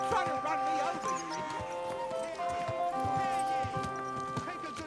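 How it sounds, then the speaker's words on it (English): Horse hooves clip-clop in a rhythmic series through the medieval town streets of the video game Kingdom Come Deliverance 2, close and clear alongside a horse's whinny, with busy market voices and background music layered underneath. "Easy, good horse."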